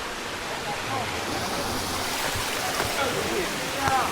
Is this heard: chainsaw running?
no